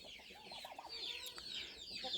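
A hen clucks in a rural farmyard where ducks and ducklings roam, a short run of rhythmic clucks close by over a soft background hiss and scattered chirps.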